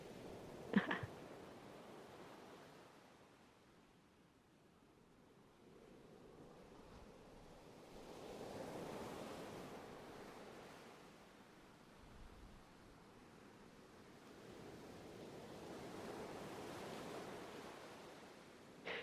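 Ocean waves wash in a virtual game space, a soft, steady surf rising and falling in slow broad swells with no voices.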